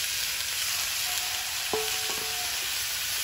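Shrimp and yardlong beans sizzle steadily in a hot pan, with a continuous bright frying hiss and a few soft clinks of a utensil stirring near the middle.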